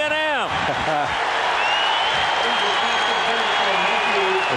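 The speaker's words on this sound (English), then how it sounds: "The crowd gets into it." Crowd noise at a 1992 college football game between Texas A&M and Missouri, a broad stadium roar building under a play-by-play voice and whistle-like tones.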